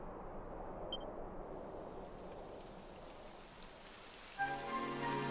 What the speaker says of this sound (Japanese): 雨が降ってきたわ